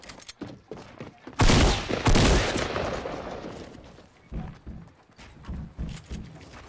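Heavy bursts of video game gunfire erupt loud and close in a sustained volley, then fade into scattered thumping shots amid game noise, with no talk heard.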